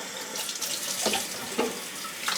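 Cold tap water runs into a humidifier tank during cleaning, a continuous close splashing gush whose pitch shifts as the tank fills, with a few brief sloshing bursts and no speech.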